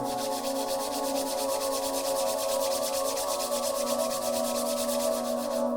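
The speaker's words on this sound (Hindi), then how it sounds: "दोनों हाथों को जोड़ लें, जोर से रब करें।" Palms rub together vigorously at the close of a tratak meditation session, a steady, close, dense swishing friction that holds evenly throughout with no talk.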